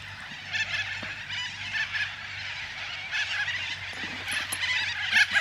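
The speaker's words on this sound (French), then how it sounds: "C'est les putains de perroquets et ça hurle." A dense, continuous chorus of loud screeching parrots somewhere in Australia, shrill overlapping calls filling the air without a break, with a low steady hum running underneath.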